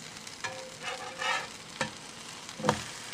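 Freshly flipped blueberry pancakes cooking in a pan, heard as a quiet sizzle broken by several short scraping and spattering bursts.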